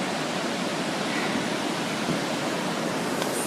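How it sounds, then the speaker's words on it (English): A coastal waterfall pours with a dense, steady roar of falling water, loud and close, unbroken throughout with no talking. "here's that waterfall."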